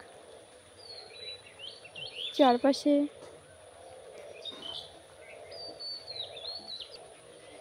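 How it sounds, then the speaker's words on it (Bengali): Frogs calling outdoors during rain, their chirping calls repeating faintly in the distance while a nearby voice speaks briefly. "কি সুন্দর শোনা যাচ্ছে ব্যাঙের ডাক"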